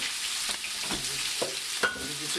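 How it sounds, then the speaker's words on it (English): Shrimp fry in a hot pan with a steady sizzle, broken by a few sharp crackles and pops, moderately loud and close, with no talking. "During this process of the cooking for the shrimp"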